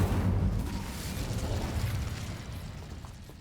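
A fire spell is cast in the Hogwarts Legacy video game, a rumbling, crackling burst of flame that erupts at full strength and then gradually dies away over a few seconds.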